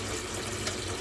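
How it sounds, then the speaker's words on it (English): Cold tap water pours into a Brita filter pitcher, a steady close splashing gush lasting about a second without any speech. "we'll put some cold water in here"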